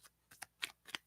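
Oracle cards being shuffled in short crisp bursts, four or five quick riffles with brief pauses between, close and quiet, without voices.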